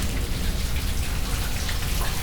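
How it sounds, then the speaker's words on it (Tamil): Steady rain falls in a dense, continuous patter close by, with no voices over it. "மழை பெய்யுது"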